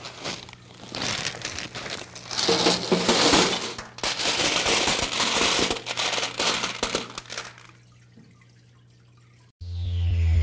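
River rocks are poured into the rock tray of a garden water feature, a long loud clattering crunch that fades away before a sudden burst of different noise at the end.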